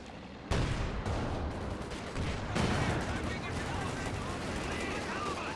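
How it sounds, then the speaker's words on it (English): Assault rifle and light machine gun fire in the video game Company of Heroes 2, dense rattling bursts with sharp onsets and steady battle noise throughout, fairly faint under the mix. "Assault rifles, another LMG."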